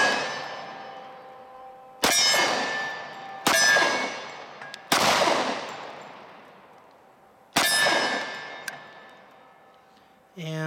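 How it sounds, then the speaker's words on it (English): A Kahr CM45 pistol fires four sharp, loud shots at uneven intervals outdoors, each ringing out with a long decay, with a light primer strike misfire where a shot fails to go off and only a faint click is left. "And another light primer strike."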